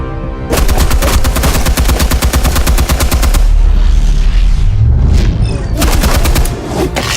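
AK-47 fire in a Batman video game: long rapid automatic bursts, loud and close, a brief pause, then another burst, with heavy low-end rumble.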